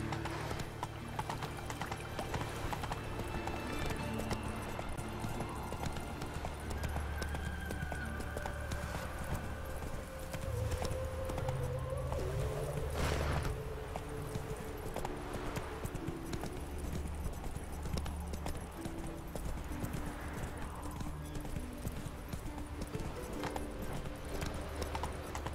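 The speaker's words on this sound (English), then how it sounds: "Whoa there, Roach" In the video game The Witcher 3, a horse's hooves clip-clop in a steady, even rhythm over ambient game background, with a brief whinny and faint voices now and then.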